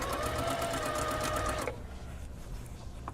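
A sewing machine runs steadily, close and alone, while stitching the folded edge of a puffy sleeve, then stops partway through, leaving quieter room noise.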